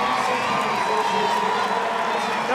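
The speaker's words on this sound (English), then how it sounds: "As Peacock takes the plaudits of this big crowd at London's Olympic Stadium" A big crowd at London's Olympic Stadium cheers during the World Para Athletics Championships, a broad sustained roar with scattered whoops, loud and continuous.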